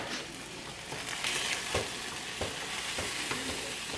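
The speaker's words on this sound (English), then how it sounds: "Let me go ahead and turn these sausages again real quick." Sausages sizzle in a frying pan as they are turned, giving a steady, close crackle with a few sharper pops and soft scraping knocks from the utensil moving them.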